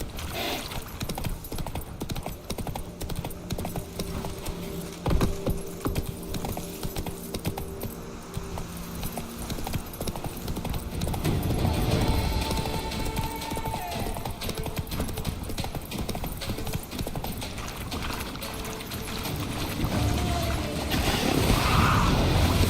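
A horse gallops in The Witcher 3 video game, steady rhythmic hoofbeats thudding across terrain with faint game ambience behind them.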